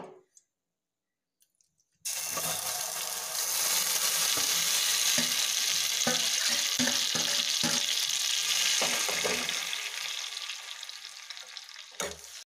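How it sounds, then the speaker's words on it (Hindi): After a short silence, boiled grated bottle gourd starts sizzling loudly in hot fat, with a steady frying crackle and occasional stirring clicks. "कुकर में बॉईल करके उसको फ्राई कर दूंगी"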